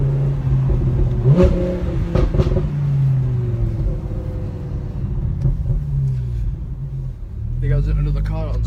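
An Audi R8 V10 with a Brooke race exhaust and a custom stage 2 pops-and-bangs tune revs loudly and close by, a deep rumbling engine note rising and falling before it swells again at the end.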